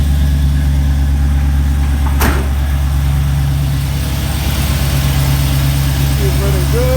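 A 1968 Camaro with an LS 5.3 swap running on E85 idles steadily right after a cold start, a loud, close, constant low rumble with one brief sharp click partway through.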